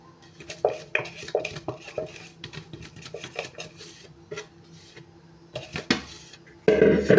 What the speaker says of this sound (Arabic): خلاص كده قلبناها تقليبه حلوه بالتوابل